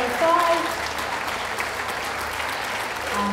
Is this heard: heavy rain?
no